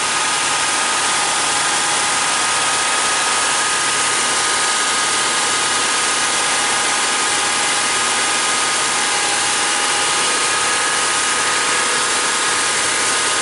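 A Buick Grand National with a no-power fault idles high, a loud steady engine drone that holds constant with no talk over it.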